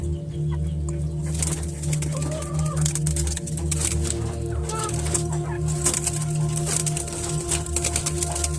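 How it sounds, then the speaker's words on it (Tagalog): Chickens clucking nearby over a constant low mechanical hum, with scattered short calls and some wing flutters mixed into the noisy background. "ito yung mga manok po."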